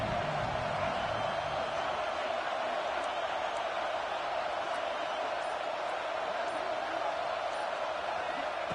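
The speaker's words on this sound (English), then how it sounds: "Here comes the noise from this big crowd in Happy Valley on 3rd down." A big stadium crowd at a college football game in Happy Valley roars on third down, a sustained dense wall of noise holding level for several seconds without a break.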